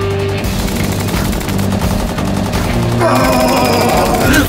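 Unlimited-ammo gun from Call of Duty Black Ops III firing in rapid sustained bursts, loud and close, a dense rattling stream over a low electronic music bed that turns brighter and harsher near the end.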